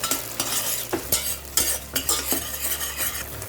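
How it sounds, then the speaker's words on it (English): A spoon stirs and mixes tomato sauce with other sauces in a pan for street-style Gobi Manchurian, making a run of scraping, clinking strokes over a steady low hum. "Mix all these well"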